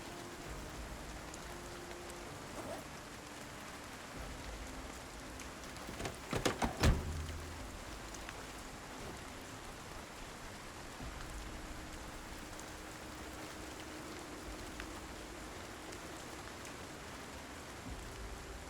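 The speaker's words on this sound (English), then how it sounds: "One thing I love about PZ is the rain." Steady rain patters continuously in the Project Zomboid video game, a soft, even wash of drops, with a brief cluster of clicks and knocks partway through.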